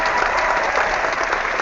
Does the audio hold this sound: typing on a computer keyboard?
no